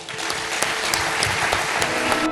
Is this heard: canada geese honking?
no